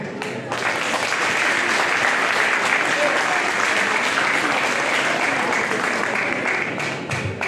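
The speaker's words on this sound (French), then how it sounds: "Je vous demande de les applaudir fortement, s'il vous plaît." An audience at a graduation ceremony in Haiti applauds the graduates with dense, sustained clapping that fills the hall at a steady, loud level from start to finish.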